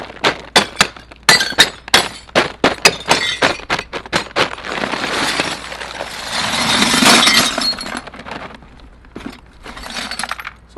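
Glass bottle bottoms being smashed in a bag for tumbling: a rapid series of loud, sharp cracks and clinks, then a longer crunching, rattling shatter of shards, close by and with no talking.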